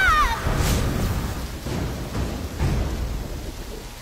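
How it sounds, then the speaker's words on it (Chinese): Steady rain pours with low thunder rumbling beneath it in a couple of slow swells, a close, full wash of noise with no voices. "你看，快点快点，下雨了。"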